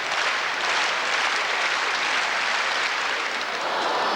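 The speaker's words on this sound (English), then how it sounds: "I think the crowd's applause for the various field events taking place" Crowd applause fills an indoor athletics arena during field events, a dense, continuous wash of clapping at steady loudness with no break.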